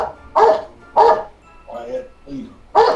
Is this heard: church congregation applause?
no